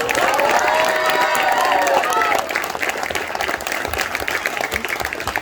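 Audience at a live mimicry show breaks into loud, dense applause and cheering up close; a voice rings over it at first, then the clapping continues steadily alone.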